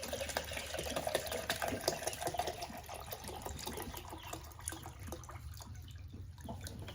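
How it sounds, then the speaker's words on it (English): Water pours from a gallon jug into a chicken waterer, a faint continuous trickle and splash that fades into scattered drips toward the end. "I will take my gallon jug, fill up the waterer"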